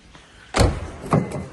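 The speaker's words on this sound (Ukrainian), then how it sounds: "електродверки." The power sliding door of a 2007 Toyota Previa minivan shuts with a solid thump, followed by a second, softer knock a moment later.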